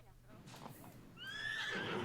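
Horses in a video game neigh and whinny over a faint rumbling backdrop, a shrill cry rising near the end, with a voice speaking early on.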